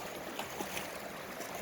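Creek water flows steadily in a continuous broadband wash near a rail station site, with faint trickling detail and no talk.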